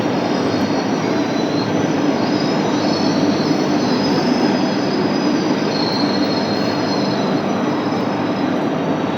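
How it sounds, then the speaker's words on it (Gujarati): A Veraval–Bhavnagar passenger train at a station gives off a loud, unbroken rumble with steady high wheel squeal, the noise holding at the same level throughout and no voices. "આ છે વેરાવળ ભાવનગર ટ્રેન જે 3 વાગે ડિપાર્ચર લેશે"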